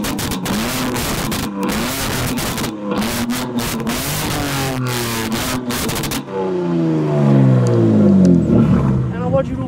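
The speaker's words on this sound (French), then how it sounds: "Bon, Cynthia, je vais te faire écouter un petit peu le bruit aberrant de cette voiture." Loud car with its exhaust valves open, revving hard up close in sharp rising bursts, then settling into a heavy, rumbling roar. People talk over the engine.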